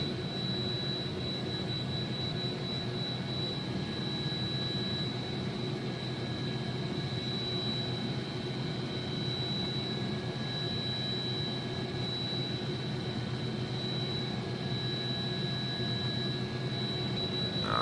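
An AW-109 helicopter turbine engine in the Prepar3D flight simulator whines steadily with a high, constant tone over a broad roar, continuous and unchanging throughout with no speech.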